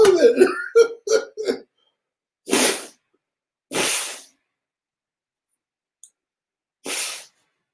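Several short, breathy bursts at irregular intervals, with a few quick clustered ones at first and then three or four louder isolated coughs separated by silence, close and dry, like someone coughing on purpose indoors.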